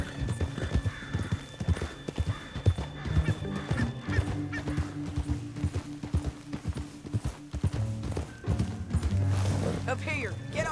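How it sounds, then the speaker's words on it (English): Hooves clip-clop at a gallop and a horse whinnies in Red Dead Redemption 2, over a steady music bed and speech, with a crash-like hit near the end. "Up here, get off your horse."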